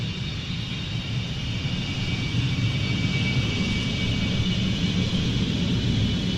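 A steady, broad roar of a United Arab Emirates aerobatic display jet trailing coloured smoke fills the air, a continuous distant rumble holding at an even loudness throughout with no voices.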